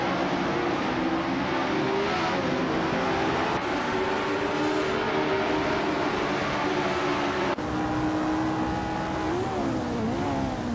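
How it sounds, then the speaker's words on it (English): Race cars in an AI-driven racing video game drone with steady, high-revving engine tones that shift in pitch as they accelerate and change gear, a dense, continuous mix of several cars with no voices. "We've got some exciting car battles happening right now."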